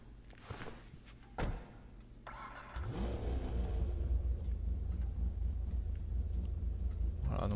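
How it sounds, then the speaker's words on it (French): A large-displacement vintage Invetero Coquette Blackfin convertible in GTA V Online starts up with a few clunks, then settles into a loud, steady low engine rumble that continues to the end without any talk. "Ensuite nous allons faire la Invertro Coquette Blackfin. Donc en fait c'est une voiture ancienne."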